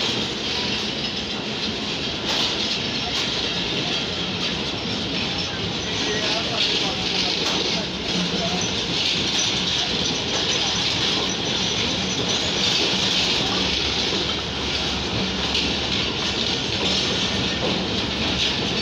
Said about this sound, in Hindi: ये अब काफ़ी स्पीड अच्छी पकड़ गई है ट्रेन